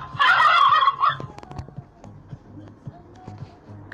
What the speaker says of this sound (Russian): Индюк!